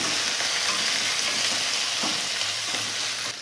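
Bottle gourd greens, chopped tender stems of the gourd vine, hit hot oil in a pan for a poppy-seed dish, giving a steady broadband frying sizzle that stays close and even, with a faint clatter near the end.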